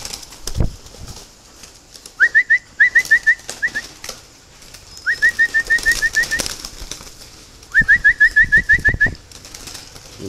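Spotted doves in a breeding cage give short bursts of rapid, repeated call notes in three clustered runs, close and fairly loud, with soft rustling and background noise between them.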